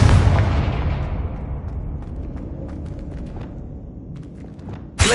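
A Confringo fire spell explodes in Hogwarts Legacy with a heavy booming blast that rumbles and slowly fades, scattered crackles trailing off, before a sharp new burst at the very end.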